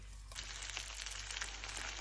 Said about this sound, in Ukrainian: Перевертаю, обсмажую з двох сторін.